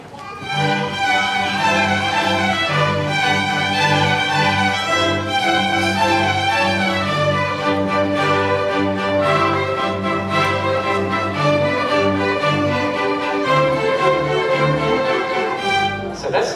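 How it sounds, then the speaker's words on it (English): A full string section of violins, violas, cellos and basses plays a sustained, lush passage with rich layered harmonies and deep bass notes, steady and loud throughout without any voices. "when all the violins, viola, cellos and basses on their own play"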